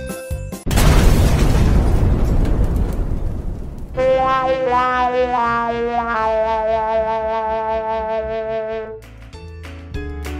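A cartoon bomb goes off in a children's animated train story, a sudden loud blast with a long rumbling wash that gives way to a bright tonal musical sting and ringing chords.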